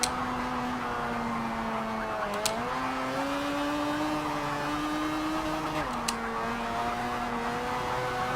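A B Class race car laps a circuit in Forza 7, its engine drone holding steady and dipping briefly at two gear shifts, with faint tyre noise and no talking.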